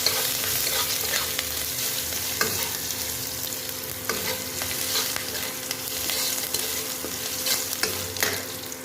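Crushed ginger and garlic fry in hot oil for a South Indian-style eggplant dish, a steady close sizzle broken by brief scrapes of stirring.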